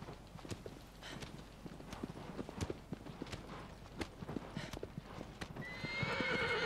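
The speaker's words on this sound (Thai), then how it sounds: "โอ้ยม้ากระโดด" A horse gallops with quick, crisp hoofbeats in Shadow of the Colossus, then lets out a loud, drawn-out neigh at the end, all close and clear over a soft game ambience.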